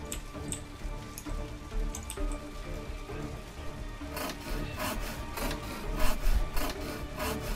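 Saw cutting wood in the Sherlock Holmes video game, a rhythmic series of rasping strokes starting partway through, close and moderately loud over a low ambient drone.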